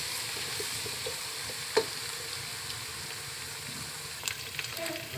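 Garlic and ginger fry in a pan with a steady, fairly quiet sizzle, broken by an occasional soft clack of a utensil and a couple of light pops toward the end.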